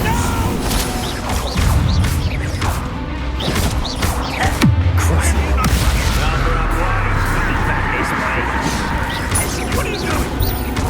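Explosive Confringo spell cast in Hogwarts Legacy, loud crashing blasts and booming impacts layered over game music and effects, with brief voices from characters.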